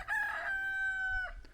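A rooster at the farmhouse chicken pens near Margaret River, Australia, lets out one long, loud crow close by, rising then holding steady before it breaks off, with no talking.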